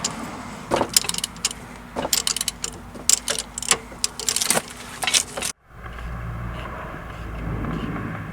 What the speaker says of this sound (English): we're just getting the last bolt off the bracket.